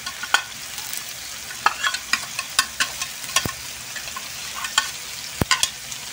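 Vegetables stirred through pancit frying in a pan: scattered scraping, tapping utensil strokes over a low sizzle, close and moderately loud, with no talking.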